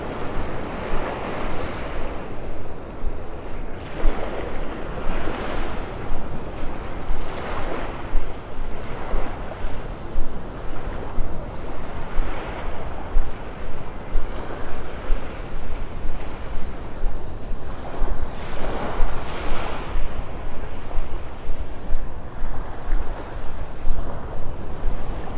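Surf rolls steadily onto Vanderbilt Beach in North Naples, Florida, at first light, with waves breaking in repeated swells under constant wind noise across the microphone and no talking.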